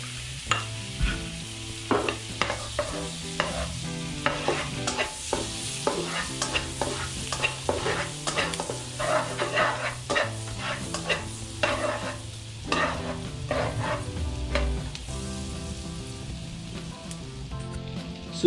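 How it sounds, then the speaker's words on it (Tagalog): Garlic sautés in a hot pan for sweet Filipino-style spaghetti, a steady sizzle punctuated by frequent rhythmic stirring scrapes and clinks that continue throughout, with no talking. "Ngayon, ilalagay na natin yung ating bawang."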